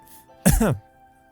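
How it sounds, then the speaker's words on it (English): A single short, sharp cough sound effect from the visual novel game Tsukihime, standing alone over faint background music. "After truncating her statement with a cough, Akiha glares at me"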